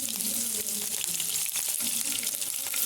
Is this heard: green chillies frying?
yes